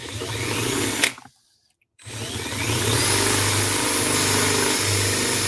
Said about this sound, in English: Here's me drilling into my thing. And my little water bottle. And there's the bit going in.